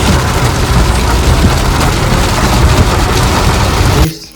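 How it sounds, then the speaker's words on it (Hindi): Heavy rain pours steadily outdoors, a loud, dense hiss with low rumble that continues evenly and then cuts off abruptly near the end. "यहाँ पे बढ़ रहा तेज बारिश।"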